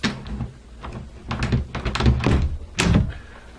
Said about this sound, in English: door actually hits the striking plate